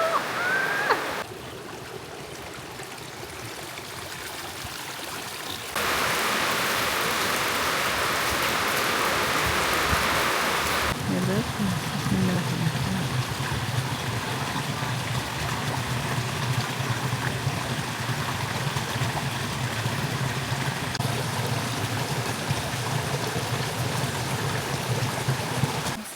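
Rain pours onto the rice terraces of Jatiluwih, Bali, in the rainy season, a dense steady hiss close to the microphone that gets louder partway through and continues without a break, with no voices.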